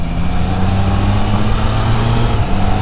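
Triumph Trident 660 motorcycle accelerating hard and upshifting to fourth with the quick-shifter, a loud steady engine drone that stays level throughout, with no voices over it.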